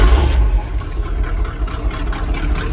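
A 1985 Chevrolet K5 Blazer idles after a cold start, its exhaust fitted with dumps and restrictor plates removed, giving a steady, close, deep rumble with slight pulsing and no talk.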